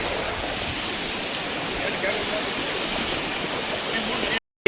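A waterfall on the Agasthiyarmalai trek roars as a loud, steady, close rush of falling water that cuts off abruptly at the end.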